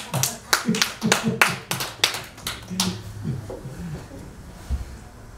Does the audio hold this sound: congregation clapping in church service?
yes